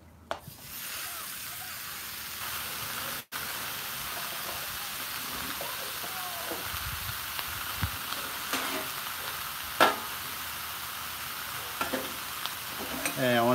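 Beef and broccoli sizzling across a Blackstone flat top griddle, a steady broad hiss with occasional scrapes and a brief clank, mostly without talk.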